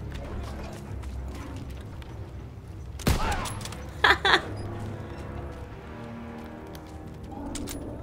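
A single sharp sniper rifle shot in Call of Duty WW2 cracks out over quiet ambience, followed a second later by two quick metallic bolt-action clacks.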